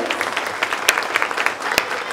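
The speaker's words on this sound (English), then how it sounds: "Let's one more round of applause for the wonderful Petway chorus" Audience applause for a chorus at an annual role model breakfast, steady clapping with a few sharp, prominent nearby claps standing out from the room.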